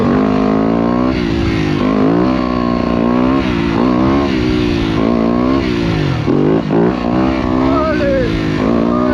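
A dirt bike motorcycle revs hard through a wheelie on a dirt track, its engine loud and close with rising and falling pitch from repeated throttle bursts, and someone talks over it.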